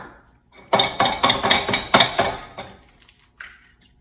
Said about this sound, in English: We're gonna go ahead and crack our eggs into our bowl